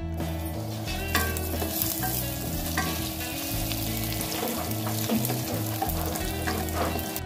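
Mustard seeds and red chillies fry in hot oil, a loud, steady sizzle with crackling pops and the scrape of stirring, close up and continuous, with no voices.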